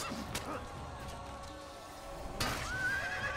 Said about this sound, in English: Hey, you're stabbing my horse.